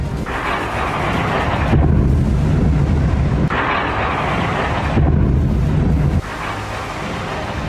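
Explosions from a Russian missile and drone strike on Kharkiv arrive as loud, rumbling, wind-blown booms in several long successive surges, with no voices.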